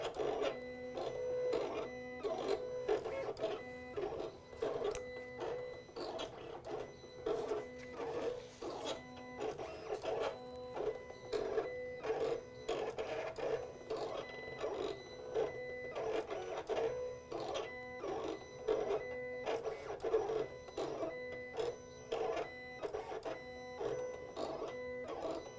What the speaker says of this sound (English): the machine just finished cutting